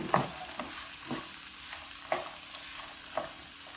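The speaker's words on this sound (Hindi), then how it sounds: "इनको अच्छी तरह भून लेंगे।" Potato kachori filling being stir-roasted in a pan, a soft steady sizzle with a spoon scraping and stirring roughly once a second, fairly quiet and close, with no voices.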